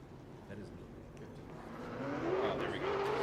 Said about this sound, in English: Next car out onto the speedway